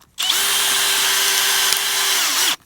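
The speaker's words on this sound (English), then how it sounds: "you have to have this tool in your drill to put them in" A cordless power drill whirs steadily for about two seconds as it drives a screw-in insulator into a wooden fence post, starting and stopping abruptly, close and loud with no talking.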